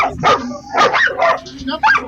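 A dog barks during a training session in which it learns to dodge objects and react to quick movements, giving three or four sharp, loud barks at close range with short gaps between them.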